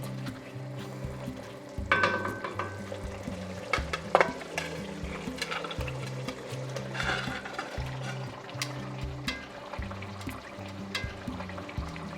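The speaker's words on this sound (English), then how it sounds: "Deglazing is where the magic happens, scraping up all those flavorful bits from the bottom of the pot." Deglazing a Dutch oven for beef stew: a spoon scrapes the pot bottom under a soft, steady sizzle, with a few sharper scrapes and clinks standing out.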